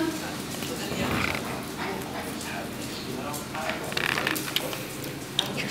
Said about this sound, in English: The guard dog doing his job.